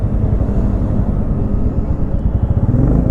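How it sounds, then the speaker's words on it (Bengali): A motorcycle engine rumbles steadily and loudly up close at the start of an early-morning long-distance bike ride, a continuous low drone with no voices. "চলো স্টার্ট দিলাম গাড়ি"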